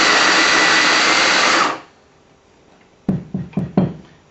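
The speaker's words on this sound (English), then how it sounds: "grind straight into your basket, or you can just push in the little container that they give you." An EM0480 coffee grinder grinds beans in a loud, steady whir that stops abruptly partway through, followed by a few close knocks and taps against the grinder or basket.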